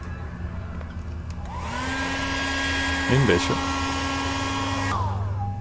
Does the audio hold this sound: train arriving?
no